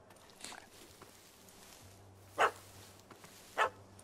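Two short, sharp dog barks from a puppy in The Witcher 3: Wild Hunt – Hearts of Stone, about a second apart, moderately loud over a quiet game ambience with a low steady hum.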